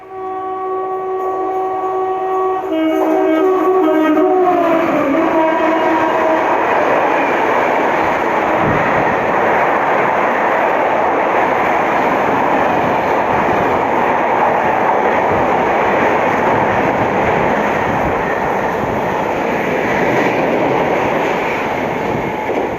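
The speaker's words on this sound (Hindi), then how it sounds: "लखनऊ से चल के नई दिल्ली को जाने वाली लखनऊ तेजस एक्सप्रेस, इंडिया की पहली प्राइवेट ट्रेन का" Lucknow Tejas Express sounding a long two-tone horn at an Indian station as it departs, then a loud, steady roar and clatter of coaches rushing past close by for the rest of the time.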